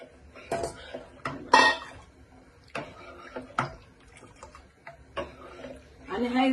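Spoon scraping and knocking against a pot as coconut milk is stirred into a Kolhapuri white rassa curry, a series of close metallic clinks and scrapes at irregular intervals with faint background sound between.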